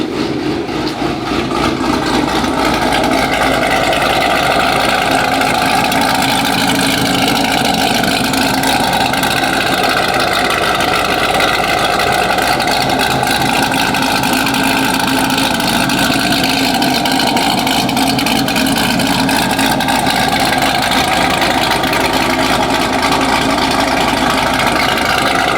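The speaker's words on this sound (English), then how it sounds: "let's start the car real quick." A 900-horsepower Chevrolet Camaro ZL1 engine idles up close, holding a loud, steady, throaty rumble without pause for the whole stretch, with no voices over it.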